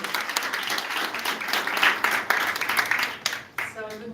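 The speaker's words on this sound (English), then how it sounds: "And please one round of applause." An audience applauds for Croatia's Minister of Education at an event in Zagreb. The clapping is steady and fairly close for about three and a half seconds, then thins as a speaking voice begins.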